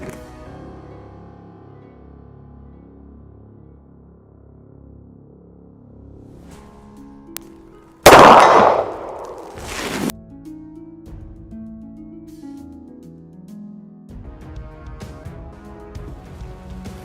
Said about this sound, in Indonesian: Sekarang kita akan menembak revolver laras pendek ini pada jarak 50 meter.